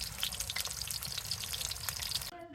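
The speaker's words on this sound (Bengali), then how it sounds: "শুরুতেই মুরগির মশলাগুলো ভালো করে কষিয়ে নিতেছে" Chicken spices sizzle steadily in a pan, browned for khichuri, a dense continuous frying hiss with crackles that cuts off abruptly near the end.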